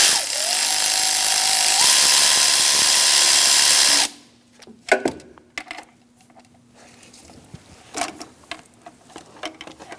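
A power tool whirs steadily for about four seconds while tightening bolts on an air injection check valve of a 2012-2020 Chevrolet Sonic 1.8L, then stops, followed by scattered metallic clicks and handling sounds.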